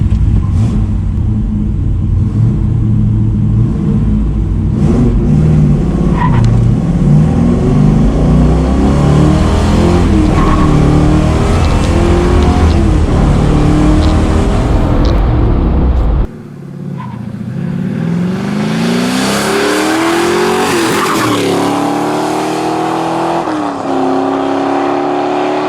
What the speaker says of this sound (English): 0 to 60, 1973 Camaro Z28.